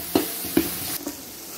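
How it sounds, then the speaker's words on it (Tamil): Fatty mutton and bone pieces frying in oil, with a couple of sharp spatula scrapes and stirring knocks over a bright crackling sizzle, close and brief, with no speech. "அந்த கொழுப்பு கறி எலும்பு கறியெல்லாம் நல்லா எண்ணெயில் வதங்கட்டும்"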